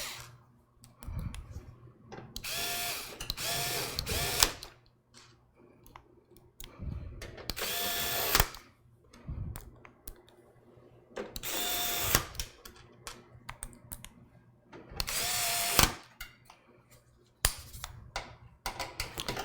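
Screws being driven tight into a computer case with a power driver, several short bursts of whirring and clicking separated by quiet gaps, close and moderately loud.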